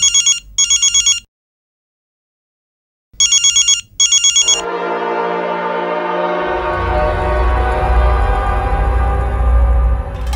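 Loud telephone ringing in two double-burst rings separated by silence, then giving way to dense, sustained music with a heavy low rumble building toward the end.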